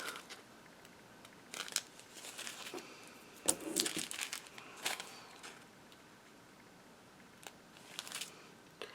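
Scissors trimming excess paper off the sides of a recycled Christmas shaker card, a few close, brief snips and paper rustles separated by quiet pauses.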